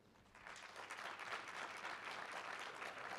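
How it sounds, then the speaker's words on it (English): The audience at a talk claps for the technologists among them, the applause rising quickly after a short quiet opening and holding as a steady, distant-sounding roar of many hands. "let's hear a round of applause if you're a technologist in the audience"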